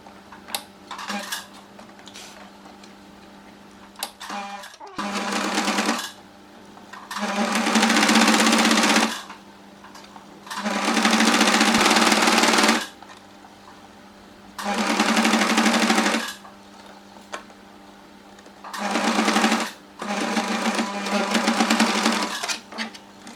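A sewing machine topstitches strips of cotton blouse fabric in several bursts of fast, even whirring, separated by short quiet pauses as the fabric is repositioned, close and clear.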